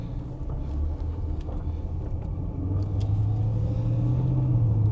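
A repaired Mercedes car driving, its engine giving a low steady rumble close by that swells slightly as it pulls ahead, with a faint whine rising over the hum.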